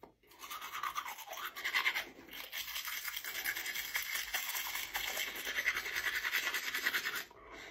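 Close, continuous scrubbing of a Beslik Meister travel toothbrush against teeth, a bristly rhythmic scratching that pauses briefly near the start before carrying on steadily.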